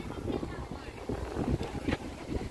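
Outdoors, wind buffets the microphone in uneven low rumbling gusts, heard up close and fairly loud throughout.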